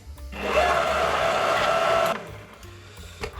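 Electric mixer whirring through Victoria sponge cake batter in a bowl, a steady close motor hum running for under two seconds before cutting off, followed by a couple of light knocks.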